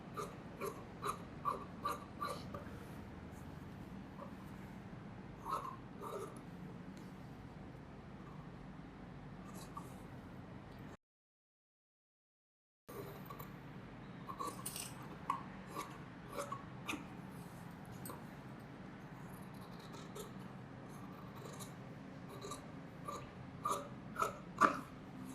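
Scissors cutting lining fabric for a chudithar, a steady run of soft, close snips and ticks with a brief silent gap midway.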